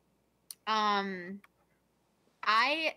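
Domestic cat meowing indoors, two distinct drawn-out meows close to the microphone, separated by a quiet pause with a couple of faint clicks.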